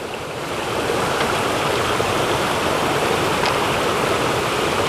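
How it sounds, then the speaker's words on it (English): Steady rushing water of a sizable stream flowing nearby on the Appalachian Trail, a continuous broadband wash with no voices. "Good sized stream here."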